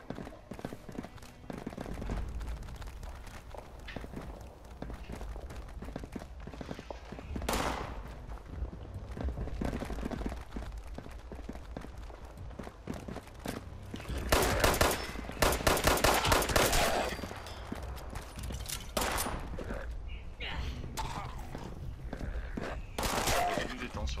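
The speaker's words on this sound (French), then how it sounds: "Il y a des coups de feu mais je vois pas d'où ça vient." Gunfire in the video game Fallout 76: scattered bursts of shots at a distance over several seconds, mixed with footsteps and game ambience, with occasional talk.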